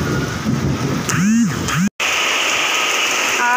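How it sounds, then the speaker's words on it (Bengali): Heavy rain pours down in strong gusting wind, a loud, dense and unbroken roar that cuts out for an instant, with faint tonal squeaks above it. "সব উড়ছে হাওয়াতে, এত বৃষ্টি জোরে এঁকে বেঁকে বৃষ্টিটা হচ্ছে।"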